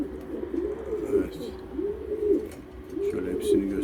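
Pigeons coo in a loft, with repeated soft throaty rolling coos rising and falling in close, overlapping phrases at moderate volume, alongside faint background rustle.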